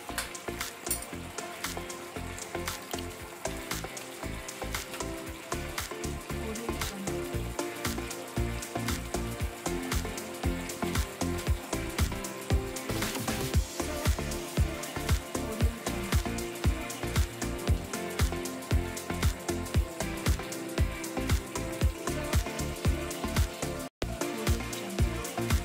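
Fried potatoes go into a Bengali-style mutton curry, which sizzles and crackles steadily in the pan, a loud, dense frying sound that runs throughout with no voices.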